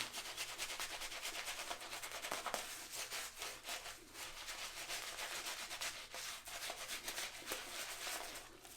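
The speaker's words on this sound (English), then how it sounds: "Lathering the West Coast Shaving Cologne shaving soap onto 2 days growth." Shaving brush working West Coast Shaving Cologne shaving soap into two days of stubble, a continuous close scratchy swishing and rubbing with rhythmic strokes, fairly quiet and steady throughout, no voice.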